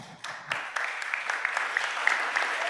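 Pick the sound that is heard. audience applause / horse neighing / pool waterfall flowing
audience applause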